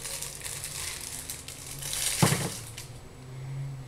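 Pop-Tart wrapper for Frosted Vanilla Milkshake Pop-Tarts being torn open, soft crinkling of the foil pack building to one sharp crackling rip, close and fairly quiet.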